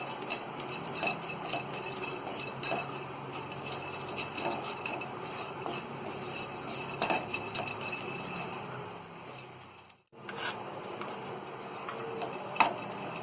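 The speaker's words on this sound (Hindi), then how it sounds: "तो ये काजू, बादाम और ये चिरौंजी हमने फ्राई कर लिए" Cashews, almonds and chironji lightly fried in a pan over medium heat, with a steady soft sizzle and occasional scraping and stirring clinks, a brief pause near the end before the frying resumes.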